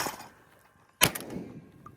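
A single sharp report from a Benelli M2 20 gauge semi-automatic shotgun fired at a clay target, sudden and loud after near silence, followed by a brief decaying echo.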